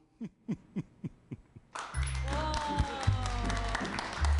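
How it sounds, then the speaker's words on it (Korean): A few rhythmic hoot-like calls are followed by a sudden swell of studio audience clapping and crowd noise after an opera singer's song, with a sustained tone ringing underneath. "박수 한 번 더 크게 해주실까요?"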